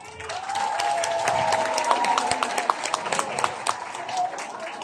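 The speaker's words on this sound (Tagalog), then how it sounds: "Palakpakan nyo naman ang slate ng PDP laban senatorial." Crowd applause at a PDP Laban political rally for the party's senatorial slate, sustained moderate clapping with sharper individual claps rising through it and a voice faintly underneath.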